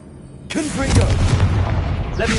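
Confringo fire spell blasting in Hogwarts Legacy, a sudden loud booming burst that rolls on for about two seconds with a crackling tail and a voice in the background.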